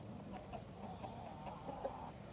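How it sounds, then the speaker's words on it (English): Backyard chickens, including an Orpington hen and Easter Egger hens, cluck softly at mid distance over steady outdoor ambience, with no voices present. "Got a hen on some eggs."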